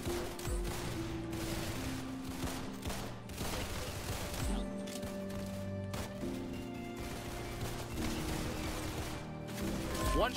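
Gunfire from a first-person shooter video game, including a pump shotgun and an arm cannon weapon, sounds as dense, continuous bursts of shots and mechanical clatter throughout, loud and mixed with game effects.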